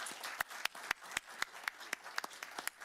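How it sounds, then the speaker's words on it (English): Scattered, fairly faint applause at a Board of Supervisors meeting, with a handful of distinct sharp claps standing out over a soft wash of clapping for about three seconds. "I think this calls for a round of applause."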